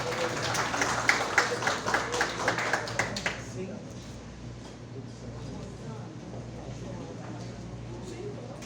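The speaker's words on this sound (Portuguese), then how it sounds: "Uma salva de palmas para ela." An audience at a poetry congress in Santa Maria de Jetibá, Brazil, claps in a short round of applause that fades after a few seconds into a quiet room murmur.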